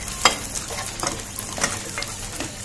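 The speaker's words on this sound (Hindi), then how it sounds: "इसको भी अब हम हल्का हल्का उसी घी में फ्राई कर लेंगे।" Dry fruits frying lightly in ghee in a kadhai give a continuous soft sizzle with occasional sharper crackles and stirring taps, close and steady, with no talking.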